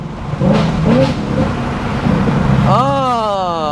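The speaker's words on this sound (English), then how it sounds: "And this is why the auto rev shift is so sick." A 2024 Ford Mustang S650 performs an automatic rev-matched downshift from fifth gear: road noise and engine hum, then a sharp blip of revs with rising, sweeping engine tones near the end, heard from inside the car.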